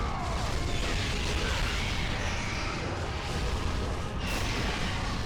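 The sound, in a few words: explosions in God of War PS2 video game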